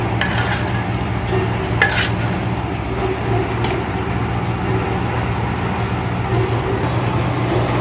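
Shrimp cooking with spiced masala in a pan, stirred steadily over a continuous sizzle, with occasional clinks of a spoon against the pan and no talking.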